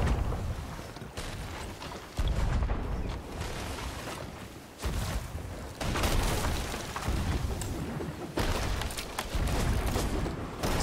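Repeated heavy booms of ship cannon fire in Sea of Thieves land in loud bursts every couple of seconds over a continuous roaring background.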